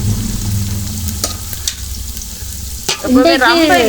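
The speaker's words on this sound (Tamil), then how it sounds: "தக்காளி பழத்தை போடுவோம்" Tomatoes hit a hot pan of home-style biryani with a loud sizzle, followed by scraping stirs and a burst of crackling frying as they cook in.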